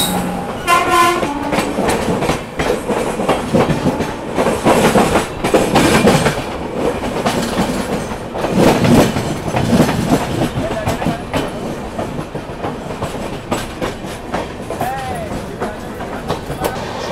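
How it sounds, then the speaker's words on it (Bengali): Patna–Howrah Jan Shatabdi Express train passing close by, a loud steady rumble of wagons with rhythmic clickety-clack and horn blasts near the start, continuous throughout. "ওটা আসছে হচ্ছে পাটনা থেকে হাওড়া জনশতাব্দী এক্সপ্রেস।"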